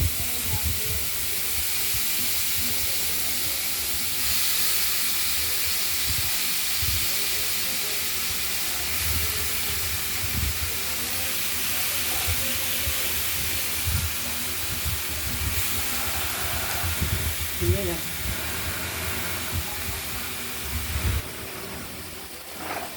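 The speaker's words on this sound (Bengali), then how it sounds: "এবার ধীরে ধীরে আমরা এটা কড়াইতে দিয়ে দেবো" Steady loud hiss and sizzle of ash gourd cooking in a hot pan, continuous throughout with faint clatter underneath.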